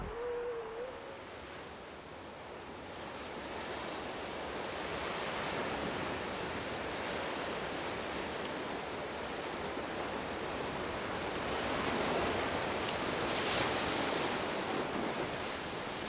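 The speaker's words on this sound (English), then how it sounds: "As the surf spends its fury" Winter ocean surf breaking on the shore, a broad continuous roar and wash of waves that swells gently, loudest near the end, with no voices.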